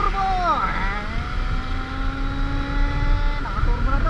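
Car engine revving with a turbo spooling, loud and close, sustained whining tones rising and falling over a rough rumble across about four seconds.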